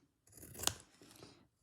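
Fabric being snipped with scissors for vintage doll Easter bunting: a short run of close, crisp cutting strokes lasting about a second, with one sharper snip near the middle, alone with no talk.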